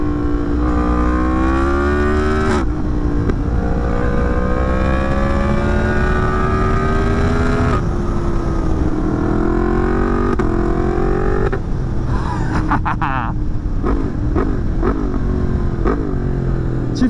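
A Yamaha MT-10 motorcycle engine fitted with an up-shifter revs hard and loud, climbing through gears in long pulls with quick shift breaks, then a few sharp blips near the end.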